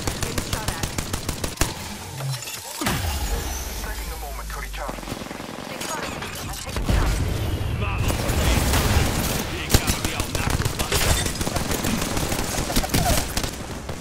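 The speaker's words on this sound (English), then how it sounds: "Being shot at." Rapid automatic gunfire in Apex Legends, loud bursts of shots crackling near and far with a deep boom early on, while voices talk over the fighting.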